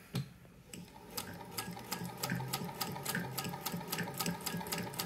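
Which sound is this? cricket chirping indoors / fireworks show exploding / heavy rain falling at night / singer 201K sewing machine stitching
singer 201K sewing machine stitching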